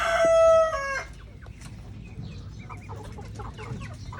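A rooster crows once, loud and near, in a backyard among pigeons, chickens and ducks, then quiet farmyard ambience with faint clucks and soft rustling follows.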